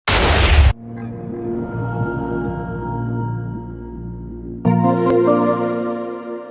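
Minecraft TNT block exploding in a video game: a sharp, loud noisy burst up front, then a low rumbling tail that swells again near the end, with no voices.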